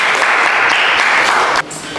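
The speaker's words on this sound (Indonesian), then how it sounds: "beri aplaus untuk kelompok" Loud, dense applause from a classroom of students clapping for a group after its presentation, steady throughout and then dropping slightly in level at the end.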